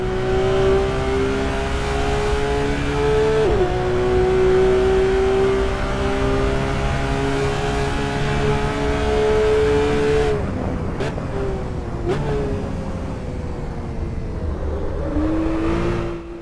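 Porsche race car engine in Assetto Corsa on the Monza circuit, a loud sustained drone held at high revs with upshifts and brief dips and rises, close and continuous, no talking.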